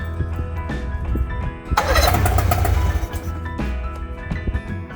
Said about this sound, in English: I was actually pretty shocked that this thing started right up on the first turn.